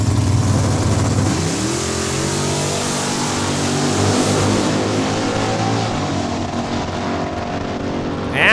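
Drag racing cars launch from the start line at Saskatchewan International Raceway, engines droning loudly then rising in pitch as they accelerate away, a steady powerful roar sustained throughout.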